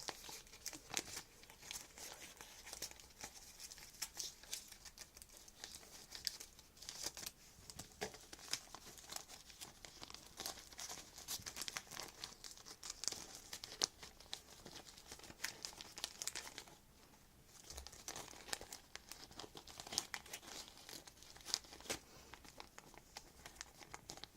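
A plastic bag crinkles and rustles as items are put into it to fill a pouch, with repeated soft close crackles throughout and no talking.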